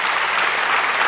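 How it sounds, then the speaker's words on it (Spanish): A church congregation applauds during a Spanish-language sermon on the resurrection of Christ, producing a dense, steady wash of many hands clapping at close range for just over a second with no break. "Denle otro aplauso al Señor"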